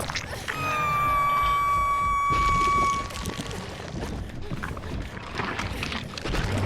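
Generator being repaired in the Dead by Daylight video game, with a sustained tonal whine for the first few seconds over clanking mechanical rattles and creaks that continue steadily throughout.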